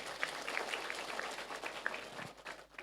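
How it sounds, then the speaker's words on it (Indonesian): An audience at an outdoor religious gathering claps softly and steadily from a distance, with faint scattered noise and murmuring around it. "Tepuk tangan dulu dong."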